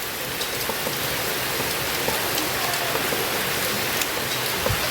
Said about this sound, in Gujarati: વરસાદ ધીમો જરાય ધીમો નથી પડતો